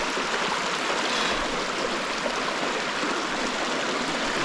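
River water rushes and flows steadily during a hiking crossing in heavy rain, a dense, even broadband wash close by with no speech.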